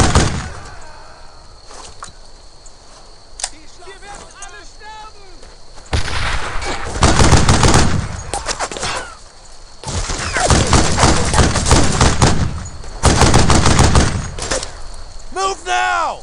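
Battlefield gunfire in the WWII shooter Brothers in Arms: Earned in Blood, with loud bursts of rifle and machine-gun fire and heavy thuds in several waves, quieter stretches between them, and shouted voices mixed in.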